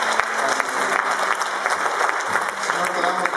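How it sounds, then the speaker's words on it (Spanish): A church congregation applauding during a Spanish-language service, with steady, loud clapping from a crowd and a faint voice underneath. "Denle un aplauso al Señor"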